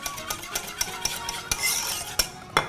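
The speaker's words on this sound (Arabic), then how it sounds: "لازم اخلط على البارد قبل ما اشغل الشولة" A spoon stirs starch into cream and qishta in a pot before the heat is turned on, producing steady scraping and clinking against the pot with intermittent sharper taps, close and moderately quiet.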